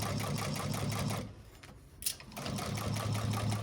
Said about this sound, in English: I'm gonna go the first time through without back stitching, just to get that stitch basted into place.